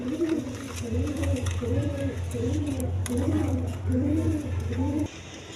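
A pair of red Gorra pigeons coo nearby in repeated rolling, warbling phrases, about one every second, steady throughout and under a man's speech.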